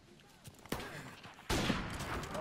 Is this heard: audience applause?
no